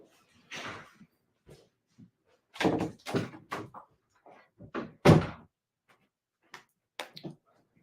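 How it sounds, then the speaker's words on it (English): An indoor door being handled and shut, with a series of knocks, clicks and thuds of the latch and frame, one louder bang near the middle, in a quiet room. "Emmett, let me close my door."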